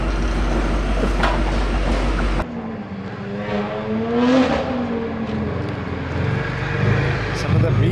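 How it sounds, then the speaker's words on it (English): Loud BMW G80 cars at a Cape Town car meet, engines droning and revving with a rising whine as one accelerates past, steady and close throughout. "Some of the meanest sounding cars in Cape Town."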